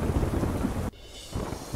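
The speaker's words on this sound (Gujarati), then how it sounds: "ગોંડલમાં વીજળીના કડાકા સાથે વરસાદ." A heavy downpour hisses with a deep rumble of thunder during a storm in Gondal; the sound cuts off abruptly, then steady rain resumes.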